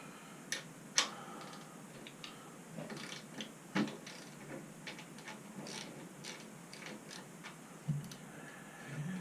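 Rapid ratchet clicks and small metallic ticks from loosening the drive chain on a Honda CM450C motorcycle's rear wheel, in short uneven bursts with a few louder knocks, close by and alone.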